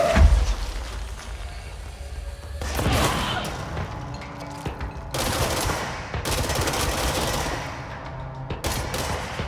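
Gunfire in the video game Control, with loud bursts of rapid shots and crashing impacts in several waves separated by brief lulls.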